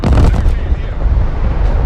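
Artillery fire in a military video game, a dense, heavy rumble of booming shots with continuous low-end thunder throughout, loud and close, with a voice briefly mixed in.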